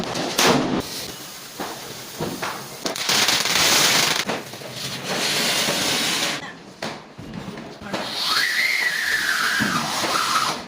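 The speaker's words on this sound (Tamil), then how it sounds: "மீதி இருக்கிற எல்லா பட்டாசையும் கொளுத்தி முடிச்சிட்டோம்" Diwali firecrackers crackle and pop in dense bursts across the whole stretch, with a rising whistling rocket near the end amid scattered loud bangs, close and outdoors.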